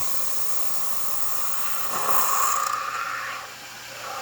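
A Quick Mill Monza espresso machine hose, newly repaired, draws air with a steady hiss that swells into a louder sucking rush midway before easing back down; no voices.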